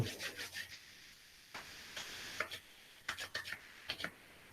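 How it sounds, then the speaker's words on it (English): Two palms rub briskly together in short bursts of soft, dry friction, close and fairly quiet, repeated in three brief clusters with small pauses between them. "Rub your palms each together."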